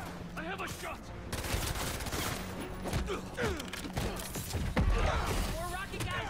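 Gunfire in the Marvel's Spider-Man 2 video game, steady rapid shots and clattering impacts throughout a dense action scene, with voices speaking over the din.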